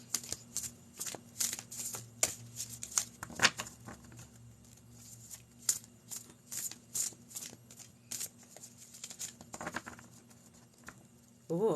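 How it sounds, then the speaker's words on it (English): Tarot cards shuffled and pulled by hand at close range, with repeated quick riffling bursts and light slaps throughout, no talking. "let me go ahead and pull some cards"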